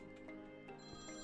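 A telephone ringing in the video game Priest Simulator, a continuous tonal ring held steady and fairly loud throughout with no talk over it.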